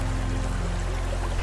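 River water flows steadily beside a campground among rice fields, a continuous broadband rush with a low rumble, close and even throughout with no talk.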